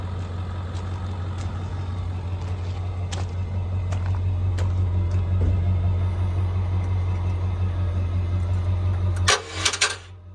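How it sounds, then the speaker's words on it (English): Small engine motor on a job site, a steady low idling hum with scattered clicks and knocks, then a few sharp rattling bursts near the end as a starter cord is pulled, close and fairly loud. "I do not like the starter on this motor. I'm just gonna pull start it."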